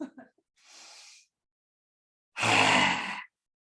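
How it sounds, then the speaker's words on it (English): A person exhales during yoga breathing with a raspy, breathy throat sound, first a softer breath, then a louder, harsher rasp after a pause. "Rasping in the throat. It's almost like, a cat coughing up a hairball."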